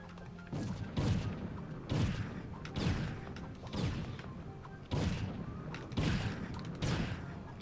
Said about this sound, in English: If you're wondering why I'm bombing them, it's to keep aggro.